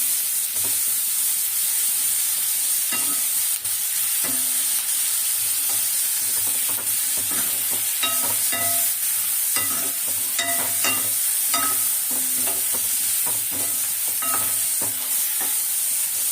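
Masala ingredients for fish kuzhambu sauté in a pan, a steady loud sizzle with frequent sharp ticks and scrapes from stirring running throughout, no voices present.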